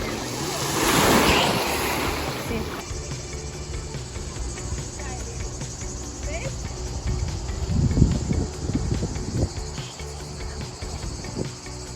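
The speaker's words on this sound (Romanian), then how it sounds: "Valurile sunt destul de mari astăzi" Large waves breaking on a beach in Greece, a steady roar of surf with swells rising and crashing, mixed with loud insect chirping and some wind buffeting the microphone.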